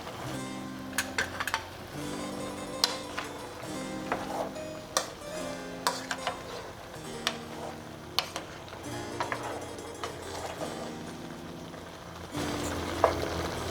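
Aviyal, a Kerala vegetable dish, boils in a pot while a spoon stirs it, giving repeated sharp taps and scrapes against the metal over a steady bubbling simmer, close and moderately loud.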